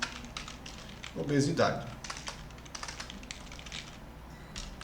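Computer keyboard typing while writing C++ code for a BMI calculation exercise, a run of quick, light key clicks throughout with a brief spoken word midway over the tapping.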